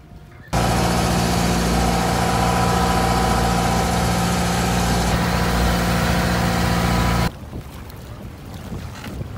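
A boat engine at Lakawon, Cadiz City, runs loud and steady at close range, a constant droning rumble that cuts off abruptly near the end, leaving quieter background noise.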